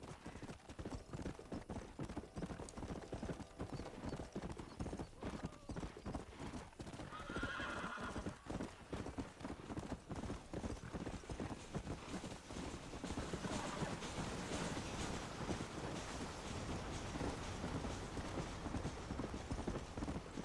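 A horse in the video game Red Dead Redemption gallops with steady, rapid hoofbeats throughout and neighs once partway through, over faint wind.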